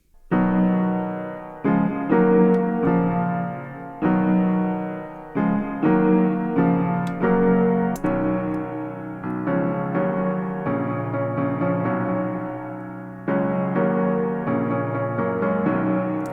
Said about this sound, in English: I'm going to start with a piano to get some chords down.